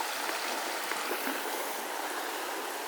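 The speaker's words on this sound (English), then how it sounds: "the creek is actually going, it's so deep" A deep creek flows nearby, a loud, steady broadband rush of water with no pauses or voices.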